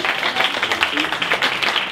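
A casino theatre audience applauds a hypnosis show volunteer, dense continuous clapping with a few louder individual claps, steady and close.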